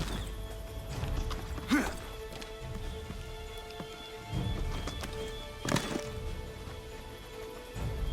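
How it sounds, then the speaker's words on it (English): A horse in the Assassin's Creed III video game moves with steady hoof clip-clops over rain-like background noise, with two brief loud bursts that may be neighs. "Get back on the horse"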